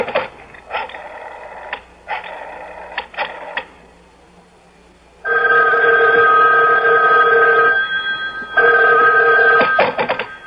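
An old-style telephone bell rings in a radio drama, in repeated loud bursts with pauses between them, followed by a steadier buzzing tone, close and clear with no talk over it.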